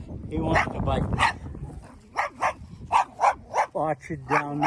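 A small farm dog near Mazamitla gives a series of close, sharp barks and yips, about eight in rhythmic succession, with a person talking over the first part.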